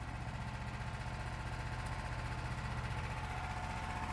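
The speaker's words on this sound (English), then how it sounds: "Fast forward a few minutes and we have the engine running" A twin-engine diesel, gasoline and electric golf cart idles with a steady, even mechanical hum and rapid rhythmic pulsing, heard close and unbroken for several seconds with no voices.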